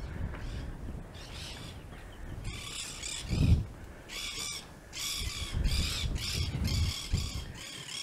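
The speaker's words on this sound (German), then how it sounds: "Da sind die Papageien." Parrots near the salt lagoons of the Chaco give a series of harsh, raucous squawking calls in repeated bursts, moderately close, over an outdoor background with no talking.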